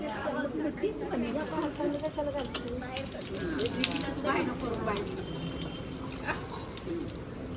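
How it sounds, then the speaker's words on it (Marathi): Water gushes steadily in the background while people talk and chatter over it close by. "पाणी पडलं पाहिजे हा निकिता"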